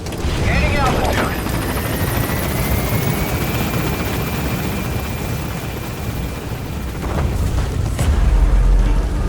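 A helicopter lifts off in the video game Metal Gear Solid V, its loud rotor thump and turbine whine steady throughout, with a rising pitch sweep and a deep rumble swelling near the end.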